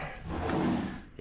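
A drawer in a built-in wardrobe with hanger rods and lower storage, in a modern Filipino house, slides open or shut in one smooth wooden rumble lasting about a second, close and moderately loud.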